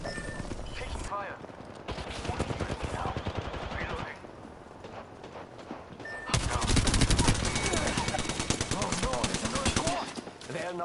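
Rapid automatic gunfire rattles in loud bursts during an Apex Legends match, with heavier sustained firing later and game voice lines talking between volleys.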